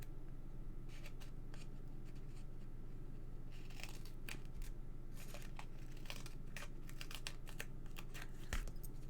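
Faint scissors snip and trim a papercraft dragonfly tail for a garden card, with a scatter of quick, light cuts and paper rustles clustered in short bursts, close and quiet.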